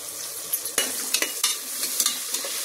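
Onions frying with salt, a bay leaf and cardamom in a pan, a bright close sizzle broken by several sharp stirring scrapes and clanks of a spoon against the pan, no talking.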